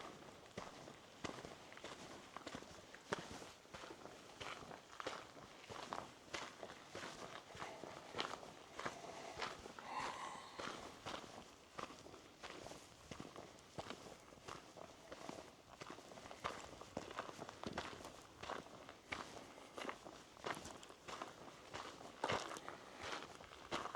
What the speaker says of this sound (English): the desert wind and crunching gravel under your footsteps is all that will meet your ears here